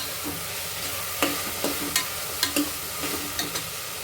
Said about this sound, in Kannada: ಈಗ ಇದಕ್ಕೆ ಗೋಡಂಬಿ ಕೂಡ ಹಾಕ್ಕೊಳ್ತಾ ಇದ್ದೀನಿ ಎಣ್ಣೆಯಲ್ಲಿ ಸ್ವಲ್ಪ ಅದು ಫ್ರೈ ಆಗಲಿ ಅಂತ